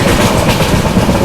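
A Rajdhani express runs on the Konkan Railway through hilly forest, giving a loud, close, rumbling clatter of wheels on track for a brief stretch.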